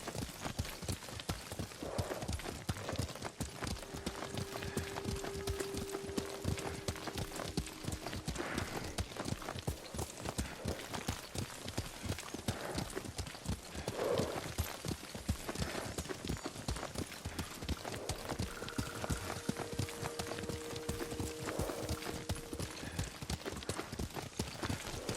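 Horse hooves clip-clop in a steady, quick rhythm while riding in the video game Ghost of Tsushima, close and continuous throughout, with faint tonal voice or music touches in the background.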